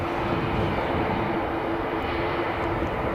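Airliner in Estonian livery lining up on the runway at Riga International Airport in freezing, snowy weather, a steady loud engine roar with a faint tonal whine, continuous throughout with no voices.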